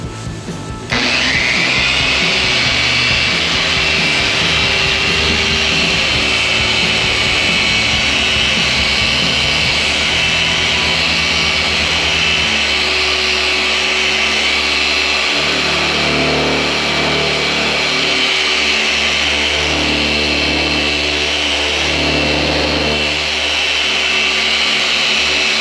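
D/A buffer polishing out paint scratches on a Dodge Challenger R/T runs loud and continuous as a steady whirring drone, with the tone shifting slightly as the pad moves across the panel.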